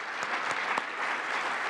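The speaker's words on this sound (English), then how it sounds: "let's give a heartfelt round of applause" Ceremony audience at the dedication of the Simons Building at MIT claps for the architect Ann Beha and her team, a brief continuous burst of moderate applause with a few sharper claps standing out.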